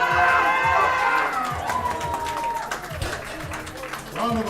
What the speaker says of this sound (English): Round of applause for Rose.